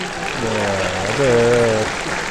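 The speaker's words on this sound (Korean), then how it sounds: "박수 소리 들으실 거예요." Applause from the crowd at a judo Grand Slam tournament in Osaka, a steady wash of clapping throughout while a voice carries over it.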